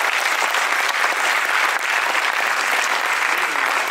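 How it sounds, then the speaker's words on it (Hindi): An audience at a spoken lecture applauds with loud, dense, continuous clapping that holds steady throughout. "तालियां तो आप बजा रहे हो"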